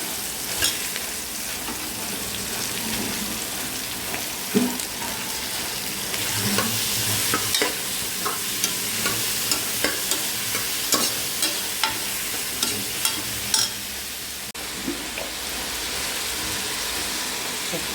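Small cut chicken pieces frying in a pan while being stirred, a steady close sizzle with regular scraping and clinking stir strokes throughout, no talking.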